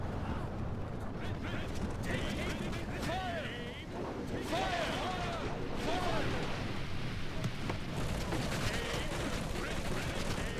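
In a Lord of the Rings strategy game, a steady din of battle carries scattered artillery and gunfire reports, clanking mechanisms and whistling projectiles under a constant rumble, with a voice speaking over it.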